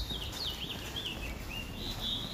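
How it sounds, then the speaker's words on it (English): Several birds chirp and tweet on a morning city street in San Francisco, thin high calls repeating over a soft, steady background hum. "The birds are tweeting."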